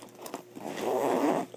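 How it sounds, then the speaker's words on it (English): A survival backpack is zipped up in one short, close rasping pull lasting about a second, preceded by a few light handling taps, with no talk. "zip this up as best I can."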